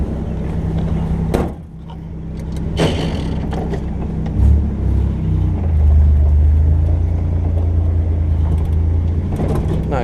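A 1971 Jeep Commando runs on the road, its engine a steady low rumble with a shift in tone partway through and brief louder swells, close and continuous throughout.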